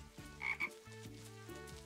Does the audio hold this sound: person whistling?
no